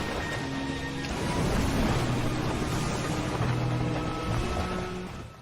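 A small rubber boat on a stormy sea in a film scene, heard as a continuous low rumble of churning water and wind that swells and eases across the clip, with no voices.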